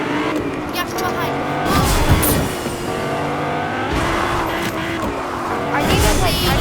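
A car in a video game drives under gunfire, its engine roaring steadily as tires squeal and skid in rising and falling sweeps, with people talking over the action.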